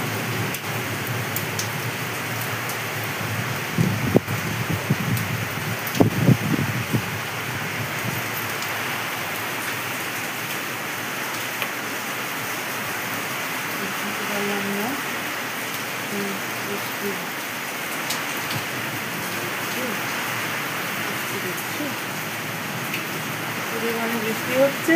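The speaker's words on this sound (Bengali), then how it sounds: "ভীষণ হাওয়া দিচ্ছে, ভীষণ হাওয়া দিচ্ছে, তার সাথে বৃষ্টি" Heavy rain driven by strong wind during a thunderstorm, a steady dense roar of rain on surfaces with occasional gusts and clatter, and a voice speaking under it at times.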